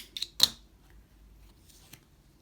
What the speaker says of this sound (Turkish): Ben hemen burada ipimi kesiyorum.